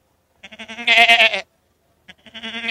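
A boy imitates a goat bleating, producing two loud, close, wavering bleats with a quavering tremble, separated by a short silence.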